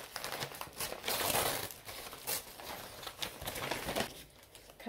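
A plastic bag from a HelloFresh vegetarian meal kit crinkles and rustles in irregular bursts as ingredients are unpacked nearby, with no talking.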